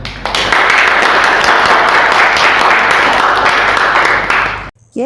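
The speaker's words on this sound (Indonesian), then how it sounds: "tepuk tangan untuk berempat" A class claps for four students after their group discussion, a loud, dense burst of applause that fills the room steadily for several seconds and then cuts off abruptly near the end.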